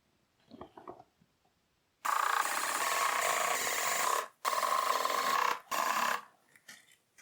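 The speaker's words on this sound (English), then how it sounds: "now I'm ready to screw this lid on too" A lid being screwed onto a shop vac dust box, with a few light clicks at first and then two long continuous grinding, rubbing spells, close and loud, separated by brief pauses.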